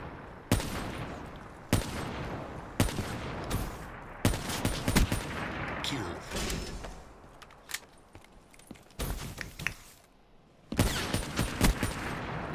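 Rapid bursts of automatic gunfire and single shots from a first-person shooter game, loud and close, coming in clustered volleys separated by brief lulls.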